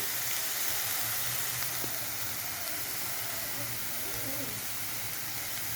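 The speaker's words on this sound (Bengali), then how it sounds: "পেঁয়াজ রসুনটা ভাজা হচ্ছে" Onion and garlic frying in a pan with a spoonful of sugar for malia chicken, a steady, soft, continuous sizzle with an even hiss throughout and no distinct pops.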